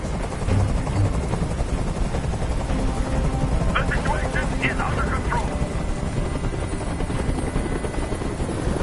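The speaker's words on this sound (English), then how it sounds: "Tell that helicopter to get out of here." Helicopter hovering overhead in Detroit: Become Human, a loud, constant rotor drone filling the scene while someone speaks briefly over it.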